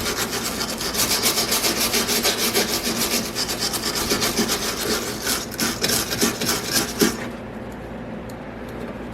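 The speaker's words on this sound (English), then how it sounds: "Let me get the old brush on it." A brush scrubs surface rust from the steel body of a Mercedes W109 near the front passenger door opening, making fast, rhythmic, close, raspy strokes that stop abruptly near the end.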